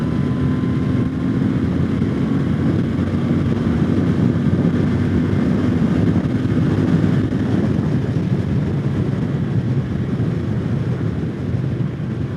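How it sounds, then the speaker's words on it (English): Royal Enfield Interceptor 650 (2020) motorcycle accelerating from about 100 on a highway, a steady loud engine drone buried in heavy rushing wind noise, constant throughout with no talk. "Let's see what happens when we pull the throttle, doing 100 on the highway"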